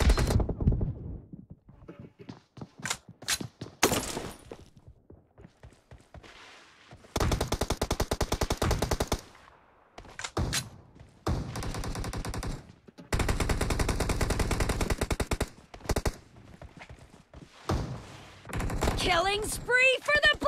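Dense automatic gunfire in PUBG Mobile, long rattling bursts and rapid strings of shots alternating with brief gaps, loud and close, with occasional voices in between.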